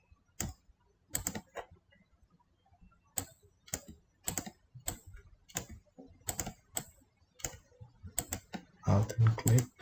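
Computer keyboard keys and mouse clicks sound while someone works in Photoshop. The sharp, close clicks come in small spaced clusters, with a denser flurry at the end.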